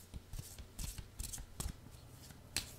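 A deck of Angels of Avalon oracle cards being shuffled by hand, heard as a series of close, quiet riffling swishes and soft slaps in an irregular rhythm, with no talking.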